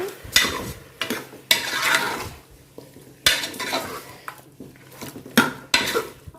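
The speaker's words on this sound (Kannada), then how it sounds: "ಮತ್ತು ಇದನ್ನೀಗ ಒಂದು ಮಿಕ್ಸ್ ಮಾಡ್ತೇನೆ" Metal spoon stirring and mixing chicken curry in a pot for village-style kadubu, clanking and scraping against the vessel in irregular bursts of strokes, close and fairly loud with no talk.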